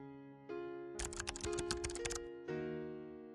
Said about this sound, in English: In the text editor, type the command you would like to execute.